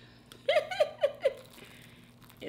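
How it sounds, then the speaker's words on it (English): Crunchy food is bitten and chewed close to the mic, a quick run of four or five crisp crunches within about a second, with quiet room noise afterwards. "This crunch gotta be heard."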